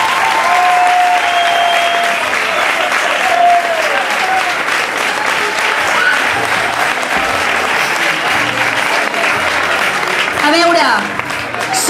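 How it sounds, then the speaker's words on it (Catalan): Audience at a country dance contest breaks into loud, sustained applause that fills the room, with a voice speaking briefly over the clapping as it begins to fade at the end. "Un aplaudiment per vosaltres"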